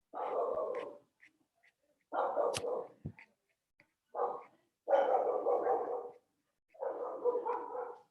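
Pet dogs bark indoors in a series of five sharp, evenly spaced bursts separated by short silences, fairly close and moderately loud.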